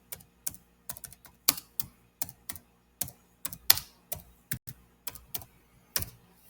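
Someone types a note on a computer keyboard, producing quiet, close key clicks in short irregular bursts with brief pauses between them.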